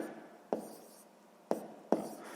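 A pen writes on paper while a sixth-grade maths exercise is worked out, with three sharp tapping strokes spaced about a second apart over a faint scratchy background, close and quiet, no talking.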